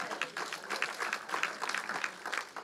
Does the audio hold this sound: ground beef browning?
no